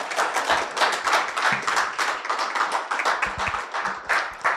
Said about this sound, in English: Ladies and gentlemen, I believe that the applause can be louder than that